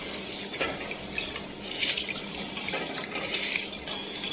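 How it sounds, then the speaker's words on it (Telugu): Green gram and fenugreek seeds being washed in water, a steady splashing and trickling like a running tap over a sink, continuous and close with small surges of swirling water and no talk. "ఇప్పుడు వీటిలన్నిటిని బాగా నీట్గా కడుక్కోవాలి."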